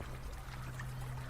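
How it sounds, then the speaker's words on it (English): Lake water gurgles and pours into a filter bottle being filled, giving a close, steady bubbling trickle with a low hum underneath and no voices. "take the bottle out, fill her up from the lake"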